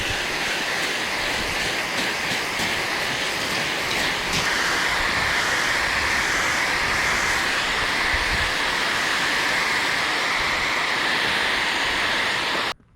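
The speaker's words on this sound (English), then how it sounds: "The water hose is ready, and now we're gonna spray this jump down." A water hose spraying down a backyard dirt bike jump, a steady, continuous hiss of water hitting packed dirt that runs without a break for about twelve seconds and then cuts off.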